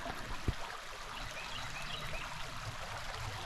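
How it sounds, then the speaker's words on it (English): A gentle brook at Canoe Creek State Park babbles steadily, soft continuous trickling and gurgling water at low volume, with a small knock near the start. "and the babbling brook"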